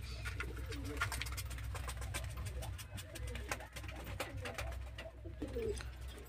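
Giribaz high-flying pigeons coo repeatedly inside a busy loft, soft throaty calls layered over a steady low background hum, several birds overlapping at close range.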